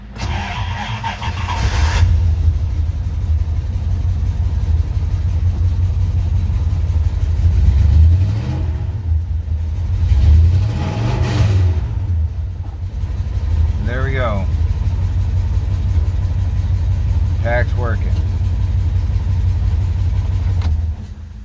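A 1990 Dodge W150 pickup's engine turns over and settles into a steady low idle that rumbles throughout, with a couple of brief revs; someone talks briefly over it.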